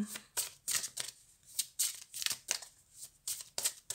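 Tarot cards shuffled by hand in a run of quick, crisp riffling bursts, about ten of them, close and fairly quiet, with no talking.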